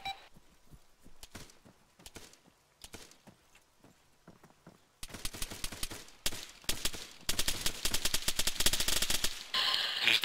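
Airsoft guns fire during an outdoor mil-sim game, with sparse scattered pops at first, then denser rapid bursts that grow louder and nearer toward the end, with no talk over them.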